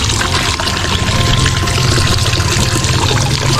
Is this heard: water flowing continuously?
yes